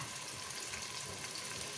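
Chopped onions and spices sizzling in hot oil for mutton biryani, a dense, even crackling hiss that holds steady without pause.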